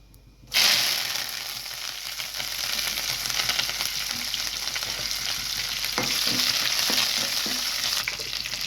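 Curry leaves dropped into hot oil with fried dried red chillies for a tempering for pachi pulusu, a raw tamarind soup, burst into a loud, steady sizzle that continues close-up for several seconds, with a few stirring clinks.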